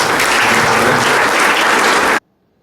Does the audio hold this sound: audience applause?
yes